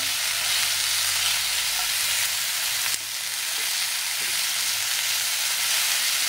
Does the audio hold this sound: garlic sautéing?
yes